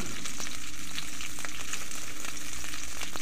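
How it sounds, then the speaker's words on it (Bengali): Green chillies frying in hot mustard oil in a wok, a loud, close, continuous crackling sizzle that holds steady throughout with scattered sharper pops. "আর তেলটা ভালোভাবে গরম হয়ে গেলে এখানে কাঁচা লঙ্কাগুলো ভেজে নেব হালকা বাদামি করে"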